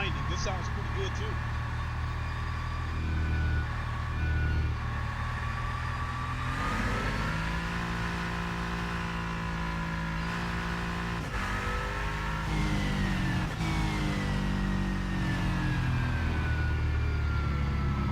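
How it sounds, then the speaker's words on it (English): A hypercar race car engine in the Rennsport racing game drones and revs continuously, pitch rising and falling with gear shifts, loud and steady throughout with no pauses. "Let's see what we got here with this audio."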